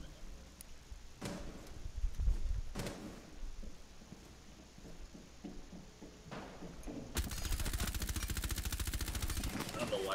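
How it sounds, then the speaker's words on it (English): Gunfire from Ash, an attacker in Rainbow Six Siege, in a hostage team deathmatch on the Hereford Base map: sharp, loud shots at first, then a sustained rapid burst of automatic fire near the end. "Ash is shooting at me now, it's not good."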